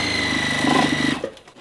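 A sewing machine stitches the binding of a mini quilt in a fast, close, steady whir that cuts off abruptly near the end, with no talk.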